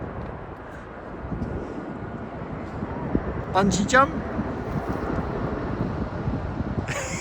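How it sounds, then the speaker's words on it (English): An aeroplane passes high overhead as a faint, distant drone mixed with wind noise, while people talk close to the microphone. "It's an aeroplane."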